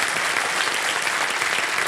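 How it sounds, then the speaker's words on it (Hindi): A studio audience on the KBC quiz show gives brisk, dense applause, steady and loud for the whole short burst with no voices over it. "एक बार फिर तालियों के साथ इनका अभिनंदन और आपको बधाई देते हैं"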